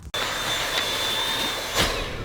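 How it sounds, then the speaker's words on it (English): A vacuum cleaner starts with a sudden jump in level and runs loud and steady, with a high whine and a brief surge near the end. "I brought the vacuum to give myself something to do, basically."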